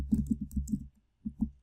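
Keys on a computer keyboard are typed at a terminal, giving a quick run of close, soft clicks followed by a brief pause and two final taps.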